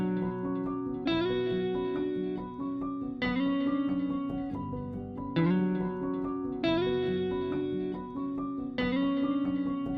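Guitar slides from the Renegade Kontakt sample bank, played alongside a piano in a steady repeating phrase, with sliding pitched notes recurring every couple of seconds, effected and reverberant, with no voices.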